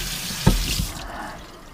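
Tap water runs steadily and close over a pan lid held under it in a kitchen sink, with a couple of brief splashes and clatters as the lid shifts in the stream. No one speaks.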